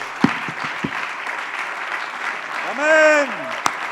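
A church congregation at a Sunday service applauds steadily for several seconds, with a few sharper claps standing out. Near the end, a voice rises over the clapping in a brief sung or drawn-out call.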